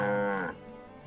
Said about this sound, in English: Oh, look at the cows.